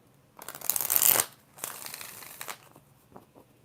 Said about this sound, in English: 5 shuffles for Sophie